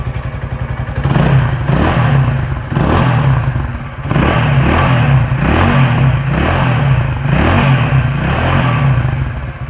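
An MB Motos SF501 250cc motorcycle with a short exhaust revs repeatedly, each blip of the throttle rising into a firm, throaty bark before dropping back to a lumpy idle, loud and close.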